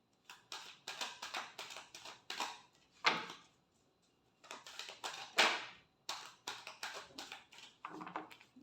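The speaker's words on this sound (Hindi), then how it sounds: "Last shuffle." Tarot cards shuffled by hand in bursts of crisp, papery riffling and tapping, with short pauses between rounds; close and fairly loud, no talking.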